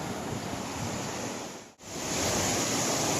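Marikina River swollen during a typhoon, a loud continuous rush of flowing water mixed with wind buffeting the microphone, with one brief dip near the middle.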